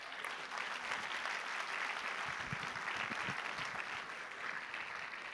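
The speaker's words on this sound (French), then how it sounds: "Alors, applaudissez-vous, mesdames et messieurs." An audience claps continuously at a festival opening ceremony, a dense steady wash of applause from a large crowd, heard at a distance and fairly faint throughout.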